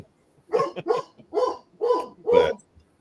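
A dog barks five times in a steady series of loud, close barks, each short and evenly spaced, with no talking over them.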